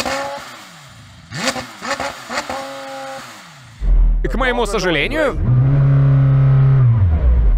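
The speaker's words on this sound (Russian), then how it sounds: "Поддам оборотов на Сенне, заводим мотор." Someone speaks, then a McLaren Senna's engine fires up and is revved in several quick rising and falling bursts before settling into a loud, deep idle close by.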